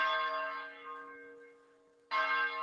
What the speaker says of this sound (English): Drowned out by the bells.